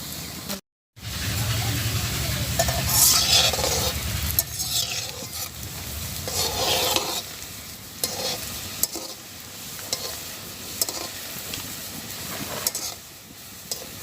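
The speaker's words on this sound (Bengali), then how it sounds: "আমি এখন এভাবে সবগুলো বড়া ভেজে নেব" Jackfruit seed fritters fry in hot oil in a village kitchen, a steady close sizzle with repeated scraping stirs and clinks of a utensil against the pan, after a brief dropout near the start.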